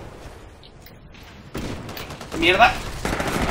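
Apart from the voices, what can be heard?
gunfire from an Ogre titan in the video game Titanfall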